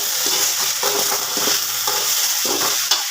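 Okra stir-frying in a pan for a vegetable dish, a continuous close hiss of sizzling broken by irregular scraping strokes of a spatula.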